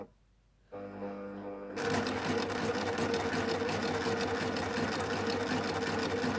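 A Baby Lock Ovation sewing machine with a bead foot stitches beads onto fabric, starting with a soft hum that jumps into a loud, steady, rapid mechanical whirring and clatter that runs continuously to the end.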